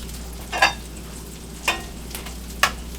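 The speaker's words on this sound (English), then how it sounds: "These onions they don't fry so good right now." Onions fry on a griddle for a wedge burger, a faint steady background sizzle broken by three brief scraping stirs of a spatula, with no talking.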